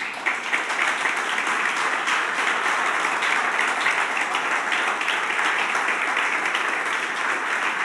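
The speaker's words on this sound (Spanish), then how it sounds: "Dale un aplauso al Señor." A church congregation applauds continuously during a worship service, dense sustained clapping filling the whole stretch without pause.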